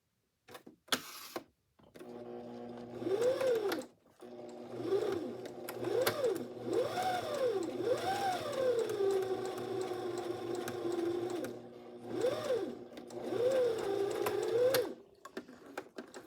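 A sewing machine stitches a quilt binding strip, its motor whirring steadily in several bursts with short pauses between runs, close and clear with no talk.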